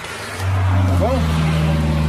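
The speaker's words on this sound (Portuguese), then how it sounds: "Entrou outro carro ali embaixo." A car engine rumbles in from below and holds a steady drone, loud and close under an outdoor setting where people are talking.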